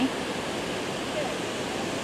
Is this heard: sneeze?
no